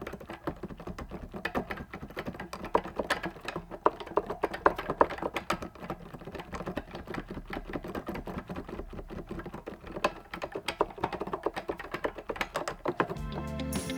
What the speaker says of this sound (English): You can also judge the sound the keyboard makes.